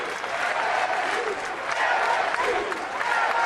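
A baseball crowd at LSU's stadium during the SEC Tournament against Alabama cheers and claps in a steady, dense roar that fills the clip without break.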